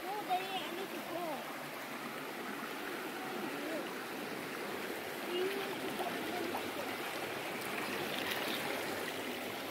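A high river in Wang Chao National Park, a steady soft rushing flow of water throughout, with people talking faintly over it.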